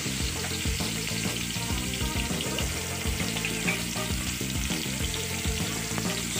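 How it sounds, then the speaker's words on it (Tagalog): Onion and ginger sauté in a pan for coconut-milk chicken adobo, a dense steady sizzle layered with repeated rhythmic stirring knocks and scrapes, close and fairly loud throughout. "Halu-haluin natin para hindi masunog yung ating sibuyas"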